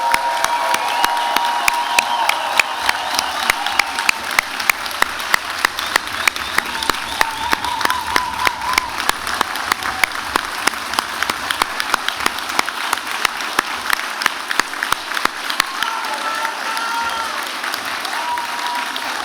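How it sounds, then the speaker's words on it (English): A large audience at a spring convocation ceremony claps for the graduates in long, steady applause with sharp individual claps and some cheering, holding at a fairly even level for nearly twenty seconds. "join me in a huge round of applause for our amazing graduates"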